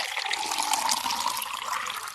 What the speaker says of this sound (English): she put some warm, soapy water into a large wooden basin